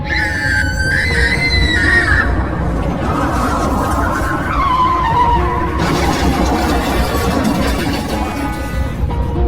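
A cartoon jeep skids and overturns: loud squealing, wavering tire screeches slide downward, then give way to a rough, noisy tumbling rumble.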